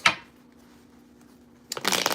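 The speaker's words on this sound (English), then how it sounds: "Let's shuffle. Let's shuffle." Tarot cards being shuffled by hand, with a short riffle at the start, a quiet pause, then a louder, longer burst of crisp card flutter close to the microphone.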